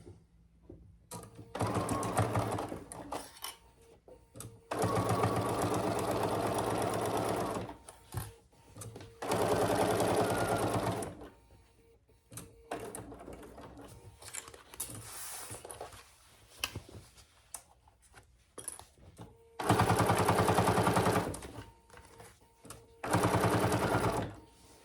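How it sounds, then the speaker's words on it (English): Sewing machine stitching Theratex fabric for a divided basket, running in several loud bursts of rapid mechanical whirring and clatter separated by pauses with quieter handling sounds. "this needle and machine doesn't really like this Theratex. It's making a lot of noise."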